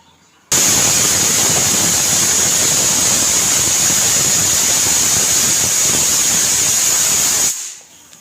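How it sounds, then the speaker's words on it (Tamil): A pressure cooker cooking tomato rice lets out one long, loud whistle: a shrill tone over rushing steam hiss, cutting in abruptly and stopping about seven seconds later. "மூணு விசில் அடிச்சிருச்சு"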